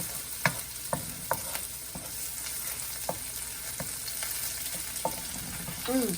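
Garlic frying in a pan for pad kee mao, a continuous close sizzle punctuated by regular sharp spatula taps and scrapes roughly every half second, with a brief louder stir at the end.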